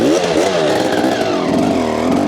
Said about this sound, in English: we drop the clutch, use a little bit of revs, and that helps spin the bike around